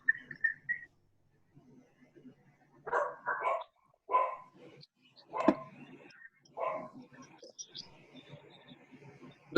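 A dog barks and yips in a string of close, moderately loud bursts, mixed with a faint voice in the background of an online class call.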